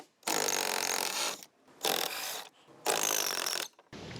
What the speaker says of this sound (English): I'm gonna have to reach under the deck with a secondary wrench while I spin this.